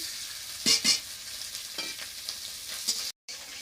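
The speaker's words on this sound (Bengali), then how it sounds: "কড়াইতে তেল দিয়ে দিচ্ছি ভেজে নিচ্ছি" Oil sizzles and crackles steadily as freshwater snails fry in a wok, with a few louder spatters and stirring clatters early on, then a brief cut near the end.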